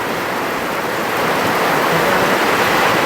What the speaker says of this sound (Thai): วันนี้ฝนตกพี่น้อง ฝนตก